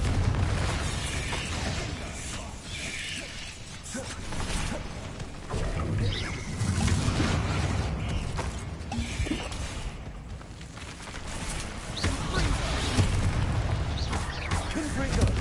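Confringo fire-blast spells in Hogwarts Legacy go off as repeated booming explosions and bursts. Loud game effects and music layer through the whole stretch, with a voice talking over them.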